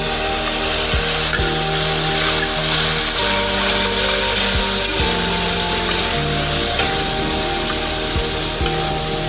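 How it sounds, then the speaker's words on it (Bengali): Ground paste of ginger, cumin, coriander and dried chilli frying with softened tomato for tangy spicy ghugni, a loud dense sizzle with scraping stirs, close up, over a steady droning hum. "এরপর আমি দিলাম আদা, জিরে, ধনে, শুকনো লঙ্কা বাটা।"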